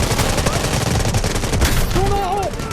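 Automatic gunfire crackles in the military shooter Delta Force, rapid loud bursts layered over game effects with a rising radio-like tone near the end.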